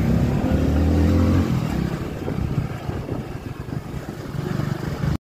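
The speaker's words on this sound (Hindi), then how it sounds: "और मोटरसाइकिल तो जा रहे।" A motorcycle pulls away, its engine note loud at first and then fading to a rough, steady rumble as it moves off.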